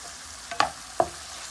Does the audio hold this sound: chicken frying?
yes